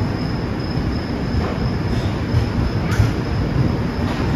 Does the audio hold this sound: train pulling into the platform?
yes